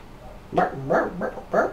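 A few dogs bark in loud bursts in the video game The Evil Within, three main barks spaced about half a second apart, with no talking.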